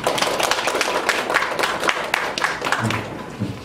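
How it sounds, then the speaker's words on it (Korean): A small audience at a youth policy forum claps for a presenter, individual hand claps audible in an uneven, sparse patter that fades out over a few seconds. "다시 한번 박수 부탁드리겠습니다"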